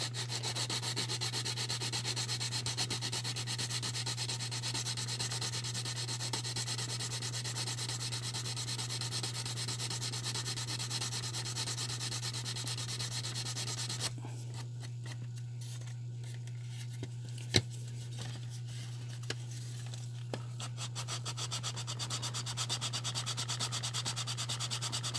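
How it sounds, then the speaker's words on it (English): A resin model car body is sanded by hand with coarse 80 grit sandpaper, a continuous close scratchy rubbing over a steady electrical hum that thins briefly partway through, with a few faint taps. "Right now I'm using 80 grit because I'm taking the side of this flare down."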